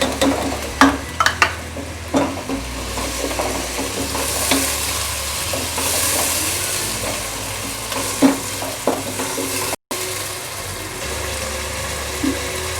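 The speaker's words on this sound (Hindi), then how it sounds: "अब इसमें मैं 1 कप दही ऐड कर रही हूँ।" A cup of yogurt goes into beef sizzling with cumin in a pot for yakhni pulao, giving a loud, continuous frying hiss with bursts of crackle and repeated stirring scrapes throughout.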